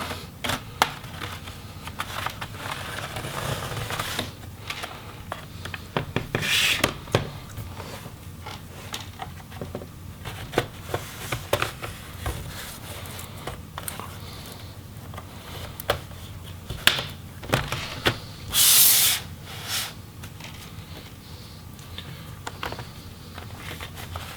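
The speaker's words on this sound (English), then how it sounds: "we're just going to get a little spudger in there and start separating them" Spudger prying apart the bottom case and palm rest of a Lenovo Legion Y7000P laptop, a long run of small plastic clicks, creaks and snaps, close and fairly quiet, with a few sharper pops near the end.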